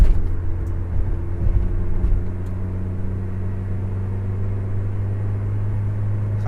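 Steady low engine drone and road rumble from inside a Toyota Hilux Mighty-X single-cab pickup cruising at around 100–110 km/h, continuous and fairly loud with no voices.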